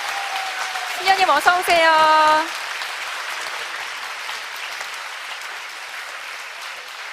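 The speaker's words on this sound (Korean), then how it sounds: "여러분 따뜻한 박수로 무대 위로 맞아주시기 바랍니다" Concert-hall audience applause welcoming a nun on stage at a music event, a steady wash of clapping that runs throughout, with someone speaking briefly over it near the start.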